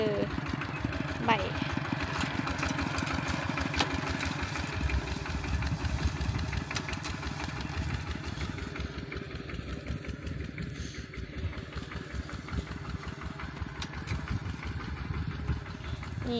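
A tractor engine idles on a farm with a steady, close, mid-pitched chugging rumble that holds for the whole stretch while people talk over it.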